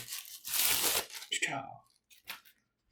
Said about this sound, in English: I'm sitting there having more problems with a plastic bag than I did a box.